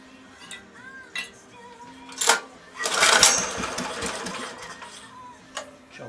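A 1970s Honda E2500 generator with a readjusted governor is started on the bench: light mechanical clicks, then the small engine catches with a loud, rough burst and settles into a clattering run, close by.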